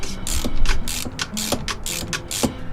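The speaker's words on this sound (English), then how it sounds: "when you tighten these, you should absolutely use a wrench" A wrench tightens a nylon-insert lock nut onto a boat battery terminal, giving a close, continuous series of ratcheting clicks and metallic scrapes with an uneven rhythm.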